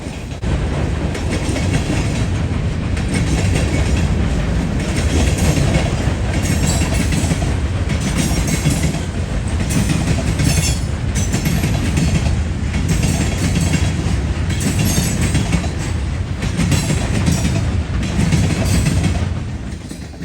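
A long CSX freight train rumbles steadily northbound across a rail diamond crossing in Cordele, Georgia, wheels clacking and pounding in a continuous loud roar that lasts throughout.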